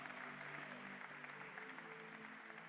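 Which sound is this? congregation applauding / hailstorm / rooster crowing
congregation applauding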